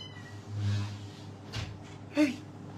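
A cat lets out a single brief meow near the end, over a low background hum and faint muffled sounds.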